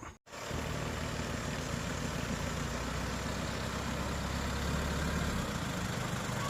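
A steady, low diesel rumble of a used truck engine idling, close and even throughout, with a brief dropout at the very start.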